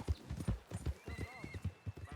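Horse hooves clip-clop in a steady rhythm through Red Dead Redemption 2, close and clear, with a brief whinny-like tone rising midway; no talk over it.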